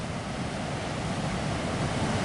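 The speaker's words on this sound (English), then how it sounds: "we can see, we have the open ocean here." Ocean surf on the open Pacific coast near Manila, California, heard from a dune trail as a steady, dense broadband roar of breaking waves mixed with wind buffeting the microphone, without speech.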